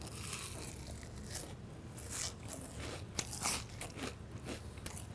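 Crispy-coated food dipped in a special sauce is bitten up close, giving several sharp crunches followed by wet chewing and crackling, with no talking.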